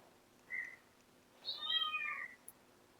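A kitten meows twice in a quiet room: first a short, soft call, then a longer, wavering cry, fairly close with no talking.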